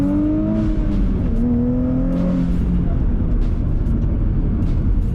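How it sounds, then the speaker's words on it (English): Nissan Z fitted with an aftermarket UniClutch clutch, engine pulling hard during spirited driving with rising tones then a shift, heard from inside the cabin under constant road and wind rumble, with a person talking. "Let's see what it's like with some spirited driving,"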